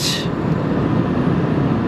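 Steady low broadband rumble and rushing air noise inside a 2003 Toyota Avalon at 80 miles an hour, continuous and even throughout, with no voices.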